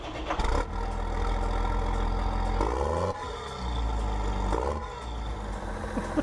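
A heavy diesel Case tractor engine in Farming Simulator 19 cranks and settles into a steady, low idling rumble with a few uneven surges, close and loud, with no voices.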